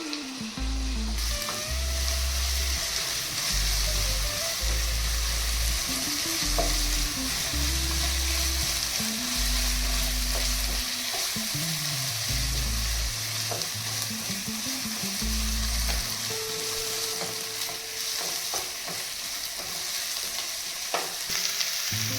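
Onions frying in a pan with a little salt to a golden colour, a steady broadband sizzle running throughout with intermittent utensil scrapes and low clatters, no voices.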